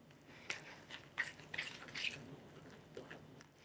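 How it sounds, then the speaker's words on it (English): Soft wet squishes and clicks of a spoon working through thick vegan chocolate cake batter, faint and close, in uneven strokes with short pauses. "You really have to make sure you're stirring everything well and evenly."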